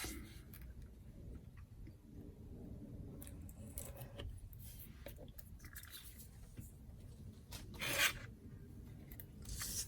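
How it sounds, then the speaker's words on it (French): Craft knife cutter scraping and slicing paper for scrapbooking, with soft irregular rasping strokes and rubbing at close range and one brief louder cut, quiet throughout. "Je sais pas si j'ai bien fait de prendre ce cutter."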